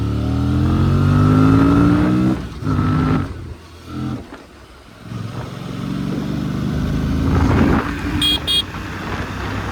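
Aprilia RS457 motorcycle out on a ride: a loud, close engine climbing through rising revs with gear shifts, dropping to a throttled-off lull, then pulling strongly again, with a brief horn toot near the end.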